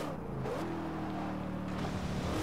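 A sports car engine in Forza Horizon 2 drones steadily and then revs higher, holding a loud, smooth tone close by with no talking.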